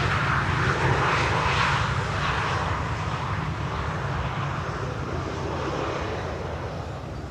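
A Tarom airliner on Flight 361 from Bucharest lands on Schiphol's runway 18R, its engines a broad, steady roar that swells slightly near the start and then holds loud and constant with no talk.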